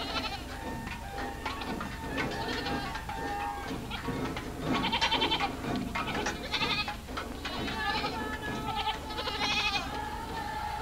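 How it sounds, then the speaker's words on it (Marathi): Several goats bleating repeatedly, overlapping calls at moderate distance in a rural setting, faint and continuous with no clear talk. "पण आपली बकरी का ओरडतात?"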